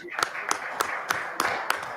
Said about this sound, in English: we can conclude this operation with a big applause to you